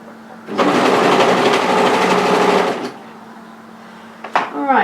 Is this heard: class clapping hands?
no